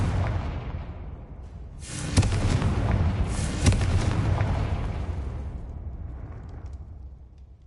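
A Confringo blasting spell goes off in Hogwarts Legacy with a deep booming burst, followed by a second explosive blast and a rumbling tail that slowly fades.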